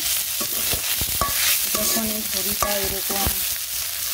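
Goat stomach fries in a pan over lowered heat, with a steady sizzle beneath repeated scraping and clinking strokes of a stirring utensil, close and continuous with no talking.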